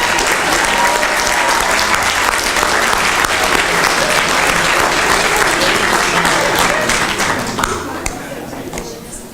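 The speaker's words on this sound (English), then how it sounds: "Let's give a round of applause." Sustained applause from a gala audience standing to honor a board, loud and steady for about eight seconds before tapering off near the end.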